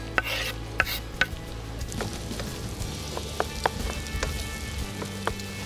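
Onion frying with bacon in a pan, giving a steady close sizzle with scattered sharp pops and crackles, heard alone.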